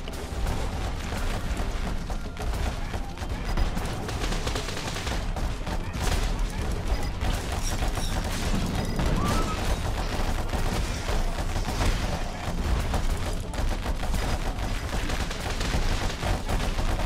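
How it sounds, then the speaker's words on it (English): Automated turrets fire nonstop at zombie hordes in the Dead Island Epidemic video game, a dense, unbroken barrage of rapid gunfire and thuds filling the whole stretch, with a player talking faintly underneath. "we got so many turrets shooting at the zombies right here."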